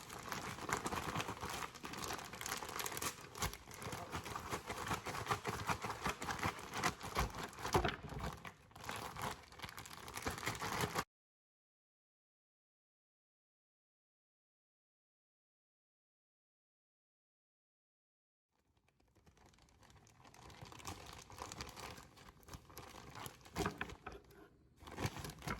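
Chicken wings are shaken in a bag with a flour, salt and pepper coating, making busy crinkling and rustling of plastic that stops for several seconds of silence and then resumes.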